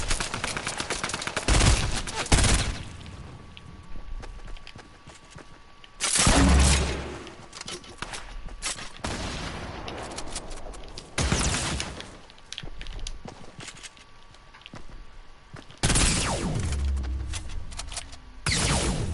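Bursts of SMG gunfire during a Fortnite battle royale match, several loud rapid volleys of varying length separated by quieter gaps of in-game ambience.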